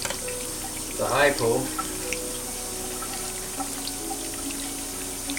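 Water runs steadily into a photographic print wash bath, a soft continuous hiss, with a brief spoken word near the start.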